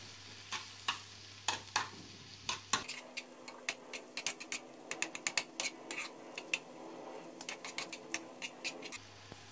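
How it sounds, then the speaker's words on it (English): Tomatoes and softened peppers for menemen cook in a pan, with repeated sharp scraping stir strokes in an irregular rhythm over a steady sizzle, close and fairly loud with no talking. "Add the tomato. Stir and cook for"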